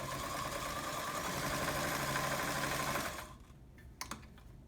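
An Omega Ultra 2000 sewing machine runs a blind hem stitch in a steady, dense mechanical whir for about three seconds, then stops, leaving a few faint clicks and handling knocks.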